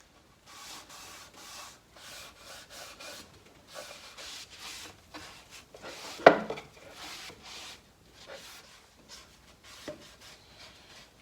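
Cloth rubbing along the underside of wooden drawers in a woodworking shop, a series of short soft wiping strokes in uneven rhythm with one sharper knock partway through, close and quiet.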